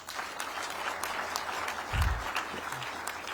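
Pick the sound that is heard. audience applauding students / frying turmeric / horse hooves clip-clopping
audience applauding students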